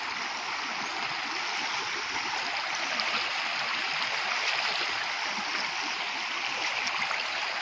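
Steady rushing of a flowing stream, a continuous broadband wash of water with no pauses, fairly close and even throughout.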